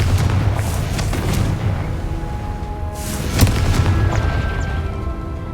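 A Confringo fire spell bursts in Hogwarts Legacy, one sharp boom rising midway through a steady rumble of in-game background noise.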